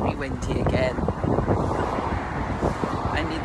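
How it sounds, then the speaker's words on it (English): Strong outdoor wind in Rhodes, Greece buffets the microphone with a loud, continuous rumble and gusty roar, with a person talking underneath. "as you can hear, it's extremely windy again."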